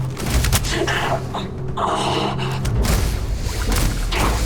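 Gunfire in the video game Starfield cracks out in loud, close, repeated shots and thumps over a constant rumbling background.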